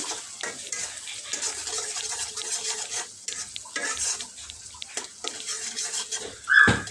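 Tomatoes and green chilies sizzle and fry in a pan while a spoon stirs and scrapes steadily, with a few clinks of utensil against the pan and a louder scrape near the end.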